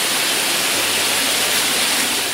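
A waterfall roars in a loud, dense, unbroken rush of white-water noise, close and steady throughout with no voices.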